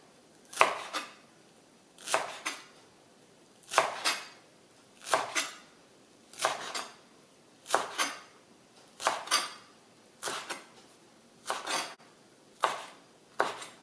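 A knife slices through mango salad ingredients onto a cutting board in about a dozen evenly spaced, crisp cuts, each a short swishing chop with a light tap, close and clear without speech.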